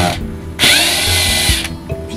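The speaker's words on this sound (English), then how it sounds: "We're going to run our screw right up through here." A power drill drives a screw up through an attic roof from inside. A short burst of motor whine rises, holds for about a second and spins down, loud and close, with no talk.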